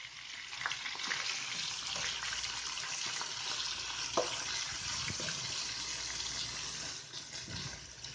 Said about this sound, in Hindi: चॉप की हुई प्याज डाल देनी है